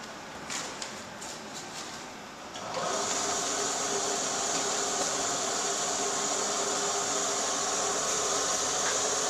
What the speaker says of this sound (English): Once that quick-acting clamp ring assembly is tightened properly, you can use a motor starter to start the unit up.